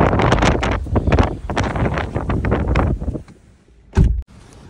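Gusty wind buffets the microphone outdoors on a sunny, breezy early-summer day in Australia, loud rumbling bursts that ease off, then a short sharp gust near the end.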